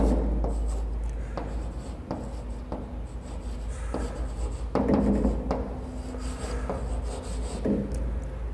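Pen writing out a maths solution on paper, close scratchy strokes in short bursts with brief taps and pauses between words, over a low steady background hum, no voices.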